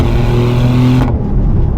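Maserati GranTurismo Trofeo engine pulling hard under acceleration while driving, a loud steady roar with strong low harmonics that drops off abruptly near the end as the throttle eases.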